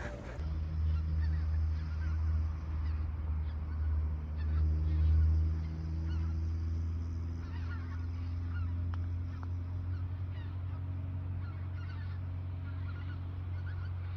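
Migrating geese honk steadily for about fourteen seconds as they fly over a mountain ski area, heard faint and far off above a constant low rumble.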